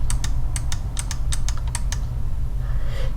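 Computer keyboard keys are pressed in quick irregular taps, about a dozen crisp clicks close by while digitizing embroidery in design software, then a brief pause with soft shuffling.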